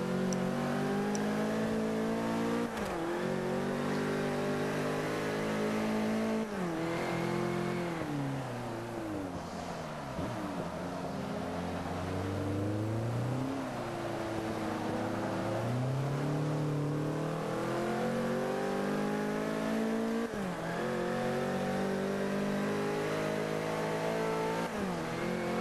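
Race car engines in Forza Motorsport 5 on the Road America track roar and rev continuously, with repeated rising and falling gear-shift sweeps as the cars accelerate, loud and close, no talking.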